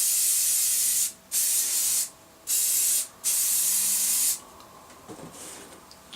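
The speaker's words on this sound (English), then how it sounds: "spray the raw plant with some spray glue or hairspray" Cheap strong hairspray sprayed onto a raw model tree for a railway layout, three close hissing bursts with brief pauses, then a longer spray that fades into soft rustling.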